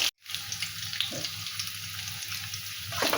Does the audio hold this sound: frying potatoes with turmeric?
yes